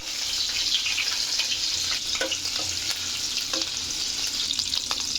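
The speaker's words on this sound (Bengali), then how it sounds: "এখন চিংড়ি মাছ দিয়ে দেবো" Shrimp sizzle and spit steadily in hot oil, a continuous bright crackle throughout with occasional stirring knocks and pops, close and fairly loud with no talking.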